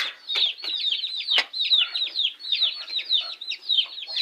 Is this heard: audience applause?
no